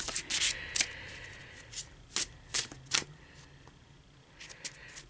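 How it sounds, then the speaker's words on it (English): Tarot cards are riffled and shuffled in quick bursts of crisp flapping and snapping, close up, with short pauses between rounds. "One more shuffle."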